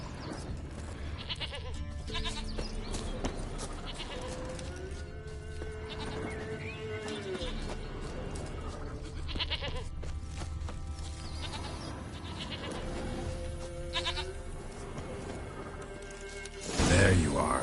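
A goat bleating in The Witcher 3, heard as several wavering, drawn-out bleats spread through the scene over a steady ambient bed and game music, with a voice speaking now and then and a louder burst at the end.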